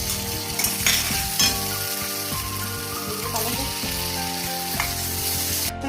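Onions and ginger-garlic paste frying in oil with bay leaf and cumin, a dense continuous sizzle close by, with scraping stirs and utensil clinks over it.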